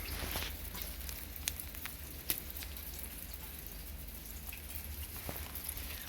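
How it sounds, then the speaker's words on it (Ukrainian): Steady rain mixed with wet snow patters down with scattered drips and an occasional sharper splat, a soft continuous wash of wet precipitation with no voices. "Ну, тобто такий дощ, мокрий сніг"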